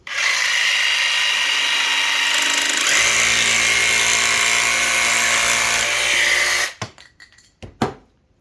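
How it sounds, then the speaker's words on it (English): A jigsaw fitted with a reverse cut blade saws through laminate from the reverse side, a loud steady high-pitched buzzing cut that runs for about six and a half seconds, shifts pitch partway through, then stops with a few clattering knocks. "hold your jigsaw on the reverse side and make your cut"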